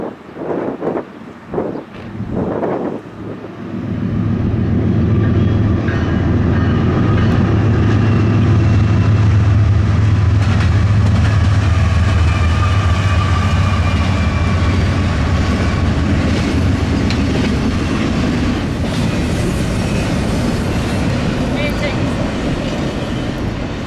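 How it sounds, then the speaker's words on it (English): Intermodal freight train 28X rumbles past heading for Croxton, New Jersey on the Chicago Line, a loud sustained roar with rail clatter and wind buffeting the microphone, rising after a few seconds and holding steady. "Following right behind 264 was another intermodal, 28X, on its way to Croxton, New Jersey."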